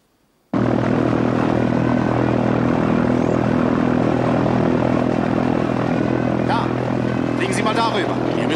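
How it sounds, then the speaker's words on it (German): A propeller airplane flies close and loud, its engine drone starting abruptly and holding steady throughout, with a few faint higher tones near the end. "Mit Hank Stewarts Flugzeug"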